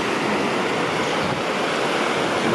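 Surf on a beach makes a continuous broad roar with a steady wash and no clear breaks between waves, loud and close and without voices.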